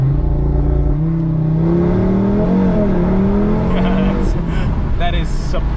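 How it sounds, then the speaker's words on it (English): A BMW M2 or Audi RS3 sports car launching hard, its engine note rising steadily through the gears with a brief dip at a shift, loud and close, ending with faint clicks. "It's so funny to me that you can launch these cars over and over again."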